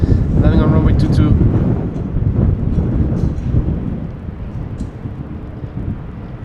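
Wind and rain at Amsterdam Schiphol Airport batter the microphone in heavy, rumbling gusts that swell and fade, with rain hiss underneath and a voice speaking faintly through the roar.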